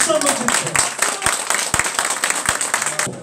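An audience at a party office opening in Bucheon claps, loud and close. The individual claps are distinct and irregular, and a speaker's voice runs over them throughout.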